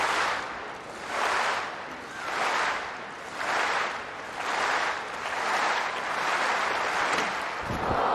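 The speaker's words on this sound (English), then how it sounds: "Listen to the reaction from the crowd" Large stadium crowd at a Commonwealth Games women's 100m heat roaring and cheering in rising and falling surges, a loud sustained wash of noise swelling about every second and a half.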